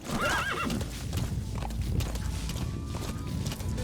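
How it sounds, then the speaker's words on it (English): A horse in the Metal Gear Solid 5 video game clip-clops at a brisk pace and gives several loud neighs and whinnies near the start, close and clear over faint game ambience. No voices. "So I can speed up the horse."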